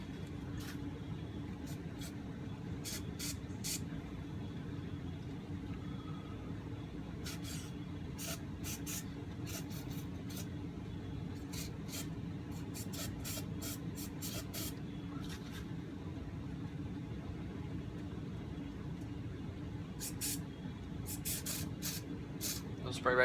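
Cleaner sprayed into the jets of a vintage 1968 Sears Clinton 3.5hp outboard carburetor, in a series of short hissing bursts, some clustered and some alone, over a low background hum.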